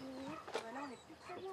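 Birds sing in the early morning in the remote Mafate cirque on Réunion, clear warbling notes and chirps rising and falling over 1.5 seconds, fairly near, with other faint background sounds.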